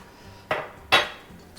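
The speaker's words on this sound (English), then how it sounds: "I'm going to just stir that around." A utensil stirring oil and sugar in a mixing bowl scrapes and clinks against the bowl twice in quick succession, close and fairly quiet against a soft background.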